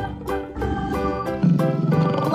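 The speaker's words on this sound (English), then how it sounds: "Lion." A lion roars in a throaty rumble that swells louder toward the end, close and alone.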